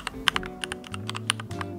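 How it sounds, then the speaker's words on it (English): Fingers type on a slightly dusty mechanical keyboard at a clay-crafting desk, with quick, irregular clacky keystrokes, some sharper and louder than others, close up over a faint low hum. "this is my keyboard of choice. She is a mechanical keyboard."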